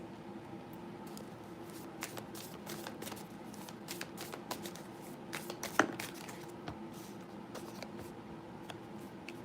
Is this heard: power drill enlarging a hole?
no